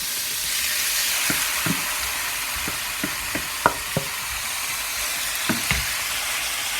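Meat sizzles steadily in a pan with a few drops of oil as part of cooking kebab. A constant, close frying hiss runs throughout, broken by scattered small pops and clicks.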